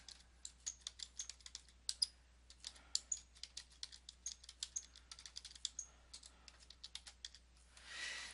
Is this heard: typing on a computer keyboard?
yes